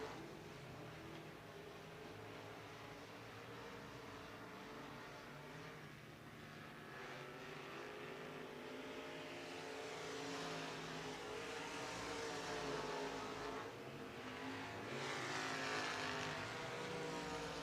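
USRA Limited Modified race cars roar around the Ark La Tex Speedway dirt track in a heat race, engines droning and swelling louder as the pack passes, some distance off, with no talk over it.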